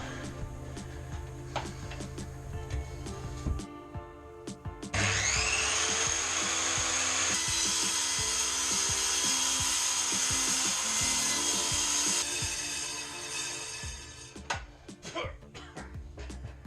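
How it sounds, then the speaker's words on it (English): A cutoff tool slices a long run through laminate flooring in an old camper, a loud sustained grinding whine of roughly seven seconds, preceded and followed by scraping, tapping and handling noises. "That's a long way to cut with a cutoff tool."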